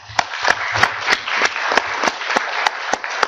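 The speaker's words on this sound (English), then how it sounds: "call for the round of the applause for them" A workshop audience on the future of cable TV claps for the panel speakers, a moderate round of applause with a few sharp, regularly spaced claps standing out near the microphone.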